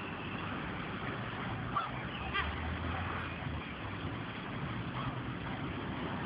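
Three birds fighting outdoors, harsh honking calls and scuffling over a steady, faint background of traffic-like noise, with a few sharper bursts partway through.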